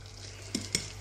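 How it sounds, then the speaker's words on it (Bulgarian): A spoon stirs muffin batter in a bowl, giving two brief, close scraping knocks against the bowl over a steady low background. "Разбъркваме."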